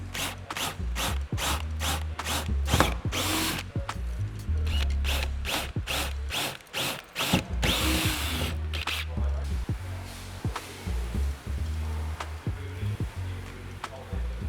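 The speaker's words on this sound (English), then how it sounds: "6mm drill bit, and yeah, just punch it through" A power drill with a 6mm bit whirs in short, rapid bursts as it bites through a fiberglass jet ski seat, then winds down into quieter mechanical clicks and handling noises.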